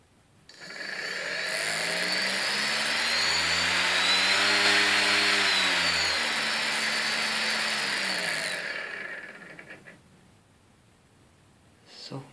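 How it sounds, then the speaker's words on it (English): A small electric thrust motor and propeller on an Arduino-built model hovercraft whirs loud and close, its whine climbing in pitch, holding steady for several seconds, then winding back down and cutting out. "thrust motor."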